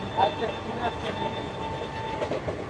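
Rumbling, rattling Kanchanjunga Express running along the tracks from Sealdah, heard up close from beside the open door, with a steady rhythmic clatter of wheels.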